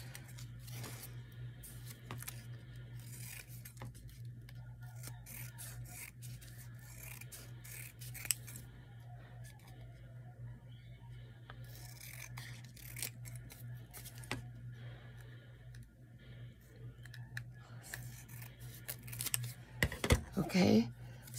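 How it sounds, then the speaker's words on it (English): Scissors snip and rub through the edges of a paper puzzle in a series of faint, close cuts over a steady low hum, building to louder crunching near the end. "we'll cut these edges off."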